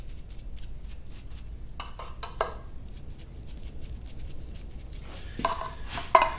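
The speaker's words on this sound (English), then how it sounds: "Just finishing up dropping the last of the flat washers over the head studs right now." Small steel flat washers dropped over the cylinder head studs of a Caterpillar D2 diesel engine, giving a few light metallic clinks and taps scattered over quiet, with a sharper clink near the end.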